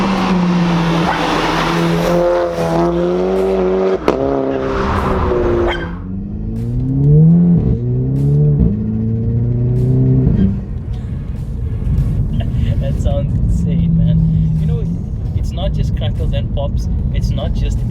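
Revving from a VW Golf 5 GTI fitted with a Golf 6R K04 turbo engine, blow-off valve dumping between repeated rising and falling pulls; loud engine tones dominate the first half, then a lower steady idle with people talking over it.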